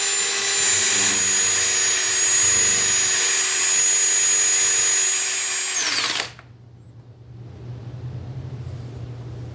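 A power drill with a mixing attachment stirs white pigment into epoxy resin, running loud and steady for about six seconds before it stops abruptly, leaving a quiet room hum.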